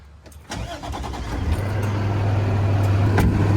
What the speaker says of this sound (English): go ahead and fire the engine up right here